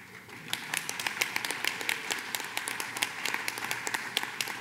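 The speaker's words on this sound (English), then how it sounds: "please join me in one last applause for all of our seniors" An audience at a high school senior awards program applauds the graduating seniors, a dense run of many hands clapping at steady moderate loudness throughout, slightly distant, with no talk over it.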